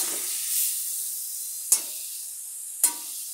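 Water poured into a hot pan of frying food, giving a steady soft sizzle with two sharp splashing bursts as it hits the oil, close and moderately quiet with no talking.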